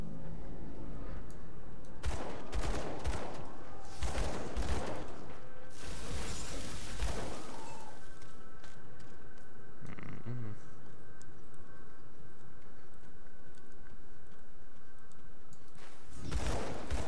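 Enemy gunfire in the video game Grim Dawn sounds as bursts of sharp shots and whooshing impacts over a constant game soundscape, with several dense clusters spread across the stretch.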